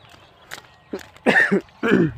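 A run of harsh coughs, a couple of short bursts followed by two heavier, louder fits close by, with no talking.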